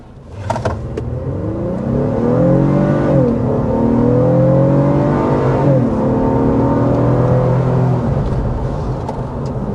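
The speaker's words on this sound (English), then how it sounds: "we need to go ahead and start with that hard acceleration" A 2026 Honda Passport V6 pulls hard from a standstill to 50 mph, pitch rising through several gear shifts with dips between them, a continuous loud cabin recording without talk.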